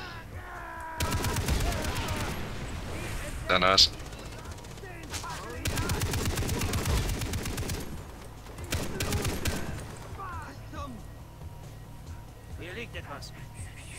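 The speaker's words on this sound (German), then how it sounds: "Hier ist noch eine zweite Kanone, stelle ich mich mal dran." Mounted gun turret firing in a Far Cry 3 co-op session at a bunker, with long bursts of rapid gunfire between pauses and players talking over it.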